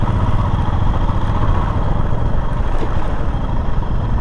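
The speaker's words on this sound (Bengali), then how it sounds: "মোটরসাইকেল তো টলে।" A motorcycle on a solo ride from Siliguri toward Ladakh and Manali, moving through dense fog, gives a steady, loud engine drone with rushing wind noise that holds unbroken throughout.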